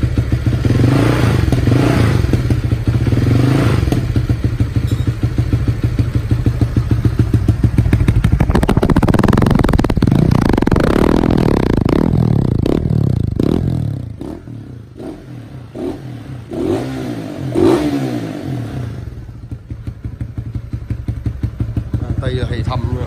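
A Honda Winner 150i motorcycle fitted with a 65 mm oversized piston and CNC rocker arms, its engine idling with a steady close clatter, then revving up loudly and dropping back to idle.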